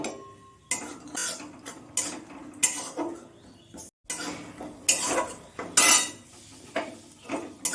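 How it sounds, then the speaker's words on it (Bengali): Peanuts dry-roasting in a kadai (wok) while being stirred give off close, irregular bursts of rattling and scraping clatter, with short pauses between strokes and no talking. "আমি অল্প একটু বাদাম ভেজে নেব।"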